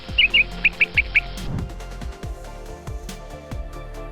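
Small birds chirp at a feeding spot in a city, with a quick run of bright, close tweets at the start, then sparser calls over a steady low hum of traffic and rhythmic thumps.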